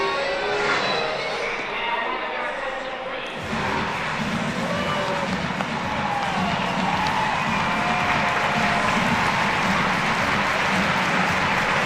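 Full-capacity stadium crowd at Progressive Field during a Savannah Bananas game, a dense steady roar of cheering and clapping that swells after a few seconds and stays loud throughout.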